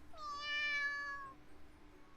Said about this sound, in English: I heard a little meow from below me.